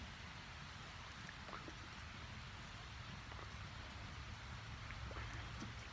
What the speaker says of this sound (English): sitting in the rain under my tree